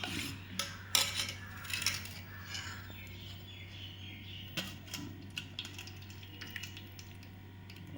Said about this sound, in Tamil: கஞ்சியை ஊற்றிக்கலாம்